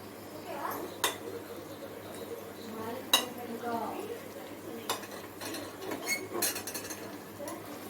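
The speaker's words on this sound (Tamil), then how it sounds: "நல்லா கிளறி விடுங்க." A ghee-rich Mysore pak mixture is stirred in a pan with soft, continuous scraping and a few sharp utensil clinks against the metal, fairly quiet and close.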